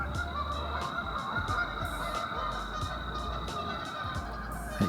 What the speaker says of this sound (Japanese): うこれ鳥の声に反応したのかな。